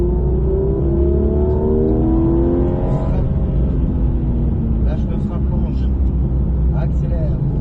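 A Porsche GT3 RS engine revs and climbs through rising pitch on a track, loud and close, with a voice speaking over the roar.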